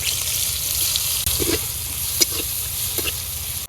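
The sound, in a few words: chopped onion added to hot oil, sizzling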